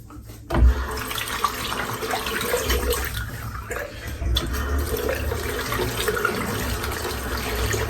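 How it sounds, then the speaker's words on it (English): Tap water runs continuously into a sink while a shaving brush is rinsed out under it, a steady splashing rush with a sharp thump near the start and brief shifts in the flow. "Yes, I am rinsing the brush out."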